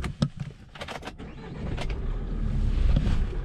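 A Mahindra pickup is switched on from inside the cab: a few short clicks and whirs, then the engine catches and settles into a steady low idle rumble, close and without talk.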